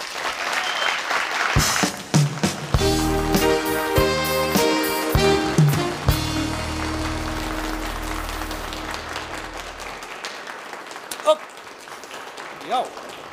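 A TV talk-show studio audience gives a burst of loud applause, which fades after about ten seconds, with music playing over it and a host speaking afterward.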